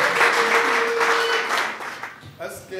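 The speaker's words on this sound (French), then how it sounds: "nous donnons l'acclamation dans le nom de Jésus" A church congregation applauds and acclaims a speaker in the name of Jesus, a loud wash of clapping and voices with a sustained sung or shouted tone, tapering off near the end.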